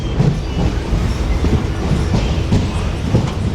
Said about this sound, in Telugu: మంగళగిరికి మన ట్రైన్ ప్లాట్ఫామ్ 4కి అయితే వచ్చింది